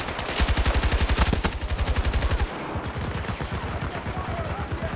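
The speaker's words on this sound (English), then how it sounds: "What is shooting at me?" Rapid automatic gunfire in Battlefield 2042, with a loud, close, steady burst of evenly spaced shots that continues in a quieter, more distant rattle of shots after a short break.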